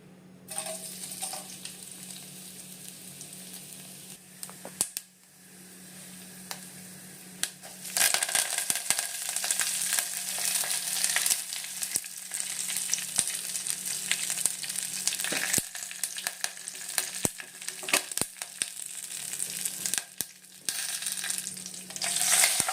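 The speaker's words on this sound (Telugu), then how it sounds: "ఇంక ఇక్కడ పప్పుచారుని తిరుగుబాటు పెట్టుకుంటున్నాను ఉల్లిపాయ వడియాలు వేసి" Onion vadiyalu crackle in hot oil while tempering dal rasam, first a quieter sizzle, then a louder, sustained frying hiss with scattered pops and clinks of stirring, without speech.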